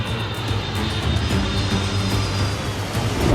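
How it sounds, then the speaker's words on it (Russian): A fixed-wing airplane roars as it takes off from the short mountain runway at Lukla airport in Nepal, a loud, steady engine drone swelling slightly toward the end with no talk. "У самолетов всего одна попытка на взлет и одна на посадку."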